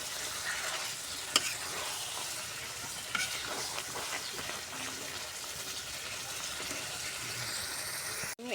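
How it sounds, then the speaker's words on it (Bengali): Meat fries in a pan with a steady sizzle, while a spoon stirs and scrapes through it in occasional sharp clinks, heard up close. "আমি মাংসটা সুন্দর করে কষাই নেব।"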